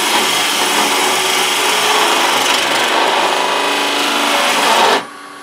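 A wood lathe turns a leg for a four-legged child's stool, with a loud, steady rasping cut of tool on spinning wood that stops abruptly near the end, leaving a low motor hum.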